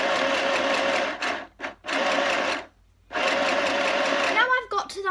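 A sewing machine stitches a cushion in two loud running bursts split by brief stops, then a voice begins speaking at the end.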